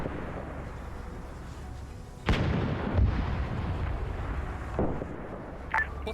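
An artillery gun fires in a military shooter game, giving one sharp, heavy boom with a rumbling tail. A few fainter thuds and a distant crack follow over steady low background noise.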